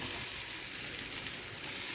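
Cubes of paneer fry in butter in a hot pan, giving a steady, soft, hissing sizzle throughout.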